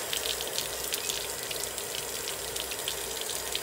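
Hose water rinsing out the frame of a Kia Sportage, a steady close hiss and splatter of spray running continuously without pauses, no voices.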